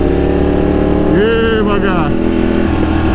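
Loud sport motorcycle engine, a Ducati among 2021 superbikes, revving with a steady roaring drone and rising pitch sweeps, while a man exclaims over it.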